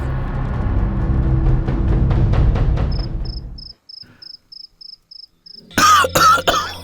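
A woman has a heavy, persistent cough, heard as a rapid series of loud, close coughs. Quiet beeping follows, and then a voice speaks briefly.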